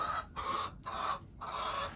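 Chickens, including a black hen with a copper-colored collar of feathers, cluck in three close, fairly loud bursts separated by brief pauses, with no talking over them.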